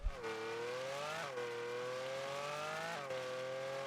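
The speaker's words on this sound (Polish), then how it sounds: "dźwięk silnika posłuchajcie" A Lamborghini Countach LPI 800-4 engine in the video game Rocket League drones at a high steady pitch, climbing in three smooth shifts, a sustained synthetic-sounding roar with no voices.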